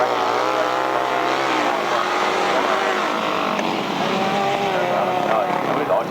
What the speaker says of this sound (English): it's John Fish and Gary Moore going for gold on their Goddens this afternoon